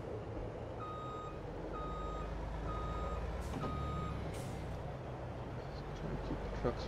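Trucks reversing in the Farming Simulator 22 video game, giving a steady series of evenly spaced reversing beeps over a constant engine rumble, with a brief hiss partway through.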